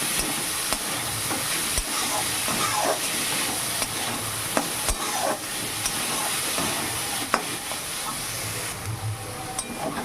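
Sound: banana flower frying and being stirred

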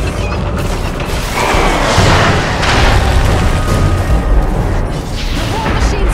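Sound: explosion of war machines being destroyed, from a video game

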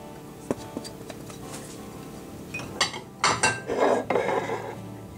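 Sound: dry ingredients being combined in a mixing bowl

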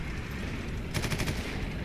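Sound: gunfire from shooting in Eternal Crusade video game

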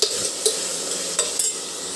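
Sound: stirring tomatoes with salt and turmeric in a pan

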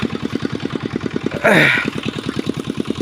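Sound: irrigation water pump engine running

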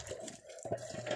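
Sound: water filling from a tap

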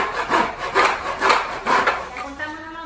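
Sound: hand saw cutting wood

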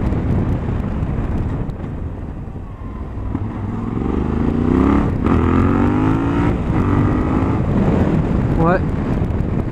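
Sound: Yamaha Ténéré 700 motorcycle engine revving while riding

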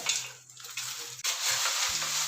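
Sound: stirring masala into corn poha chivada

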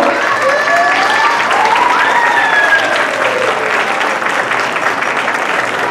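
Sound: audience applause at an anniversary ceremony

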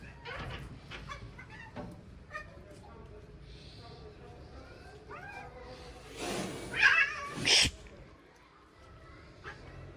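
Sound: cats meowing

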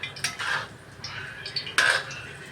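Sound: stirring thoran with lentils in a pan

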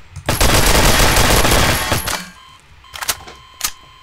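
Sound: gunfire from players shooting the mayor in GMOD DarkRP video game

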